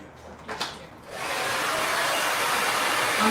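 A hair dryer switches on about a second in and blows steadily and loudly for the rest of the time, a constant broadband whoosh, with a brief knock before it starts.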